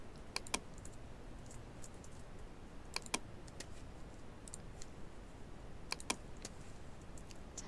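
Computer keyboard shortcut keys pressed while working in Photoshop, quiet crisp clicks arriving in three short clusters of two or three taps, separated by pauses, against a soft background hiss.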